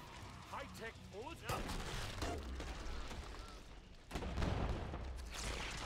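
Grenade pistol fire in Killing Floor 2 lands as heavy booming blasts amid sustained in-game gunfire and explosions, loud and repeated, while players talk over the action.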